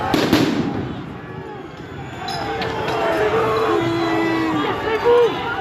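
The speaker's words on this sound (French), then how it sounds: "Attention, il y a des tirs tendus." Police LBD and tear gas shots at a healthcare workers' protest in Paris, sharp bangs early on, then crowd noise and scattered pops under shouting voices, with a whistling tone toward the end.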